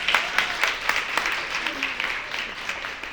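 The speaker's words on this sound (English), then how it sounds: "give a round of applause for that" An audience at a homelessness solutions conference breaks into applause, a moderate crowd clapping in pulsing waves that gradually thins out over a few seconds.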